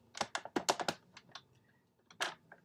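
Cardstock for a fold card is scored, giving a cluster of sharp, close clicks and taps in quick succession, then a pause and a couple more isolated clicks.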